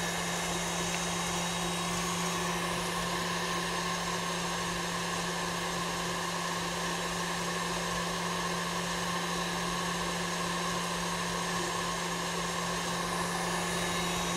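Electric mixer whisking egg whites with sugar for a meringue, a constant whirring motor hum with a steady pitch running unbroken and at moderate level, with no speech over it.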